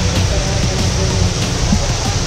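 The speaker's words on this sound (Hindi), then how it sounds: "ऐसा झरना यहाँ पे बहुत है।" Mountain waterfall beside the walking trail to Kedarnath, heard as a steady, dense broadband rush of falling water that stays constant and fairly loud throughout, with no talk over it.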